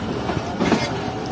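Zikriya Express passenger train running on rails, a steady rumbling roll with rhythmic clickety-clack of wheels over track joints, heard from on board at moderate loudness.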